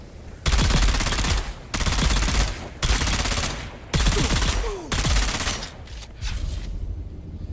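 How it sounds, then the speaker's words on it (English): Automatic gunfire in the video game Surviving the Sandstorms, five or six loud sustained bursts of rapid shots with short gaps between, close and heavy, with a player speaking briefly between bursts. "Who's shooting at me?"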